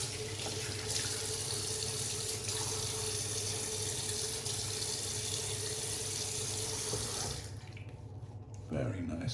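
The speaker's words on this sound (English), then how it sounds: "we're going to paint some more water into this" A faucet runs water steadily to wet a shaving soap lather, a continuous close hiss and splash that cuts off near the end, followed by a brief handling sound.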